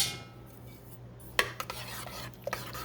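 A spoon stirs brown sugar into sloppy joe sauce in a crock pot, with a few sharp metallic clinks against the pot over a low background hum.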